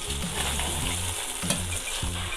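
Okra sizzles steadily in a hot pan for a bhindi chicken masala, a continuous close crackle and hiss with occasional soft stirring bumps and no talk.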